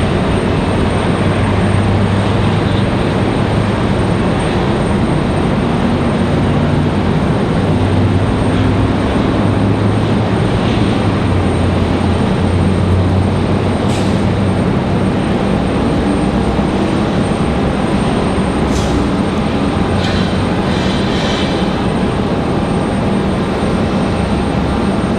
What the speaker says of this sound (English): So this JetBlue is not taxiing out any faster than it was earlier.